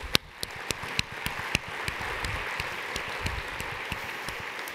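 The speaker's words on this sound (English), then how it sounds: "Let's give them a round of applause." Audience at a multiple sclerosis society leadership conference general session applauds its sponsors, a steady wash of clapping from a large room with a few sharp nearby claps standing out at the start.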